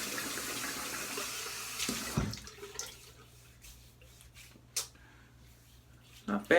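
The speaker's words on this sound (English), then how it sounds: "let me rinse off and see how I did here." Tap water runs from a bathroom faucet while someone rinses off after shaving their head, a steady splashing stream for about two seconds that gives way to quieter dripping, handling noises and a few sharp knocks.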